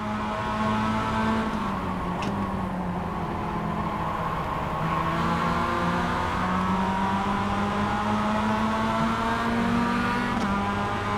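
Mazda MX-5 race car engine in a racing video game, a steady loud drone with gear-like pitch steps and slight dips as the car slows for a corner, running continuously throughout.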